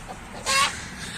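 A single short, raspy hen cluck after laying an egg, close by, standing out briefly from a quiet background.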